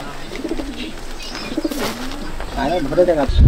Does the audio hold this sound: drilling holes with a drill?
no